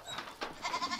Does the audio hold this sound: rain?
no